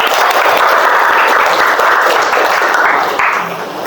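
Classroom applause from a group of students at the end of a lesson, sustained and loud clapping that fills the room for several seconds before tapering slightly at the end.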